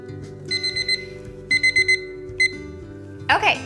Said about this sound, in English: our second 4 minute timer just went off